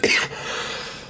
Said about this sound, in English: I'm sorry about the cough, by the way.